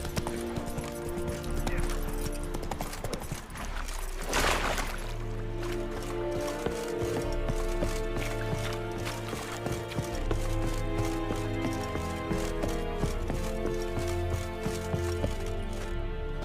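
Horse hooves clip-clopping at a steady running rhythm in The Witcher 3, a continuous close patter under a bed of game music with no talk.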